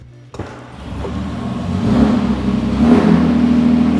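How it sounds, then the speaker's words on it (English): A 1958 Austin Healey BN4 inline six revs up steadily and loudly close by, its raspy exhaust note building and holding in two rising surges, with no talking over it. "Listen to that inline six purr. That raspy exhaust note."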